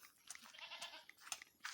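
Goats bleat faintly on a farm in Zamboanga del Sur, Philippines, with a few thin, distant calls spread over quiet crunching and chewing noises.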